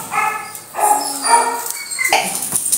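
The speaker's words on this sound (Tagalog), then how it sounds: "Si Colleen Labrador." Labrador dog barking close by, a few short, loud barks in quick succession, then softer yips and whines.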